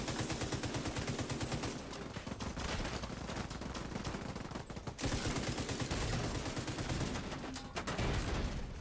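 Turret gunfire rattles in the video game The Division 2, a dense, loud stream of rapid automatic shots. It pauses briefly midway, then resumes with the same relentless rhythm.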